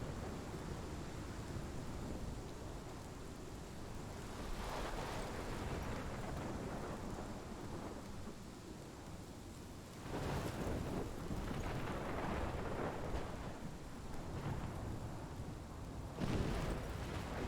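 A thunderstorm in the video game Life is Strange: steady, faint rain and wind with rolls of thunder swelling every few seconds, distant and subdued throughout.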